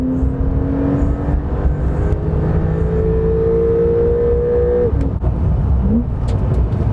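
Porsche 911 with a PDK transmission on the move, heard from inside as a continuous engine drone with a rising whine that holds, then drops away near the end as the revs change, with no talking.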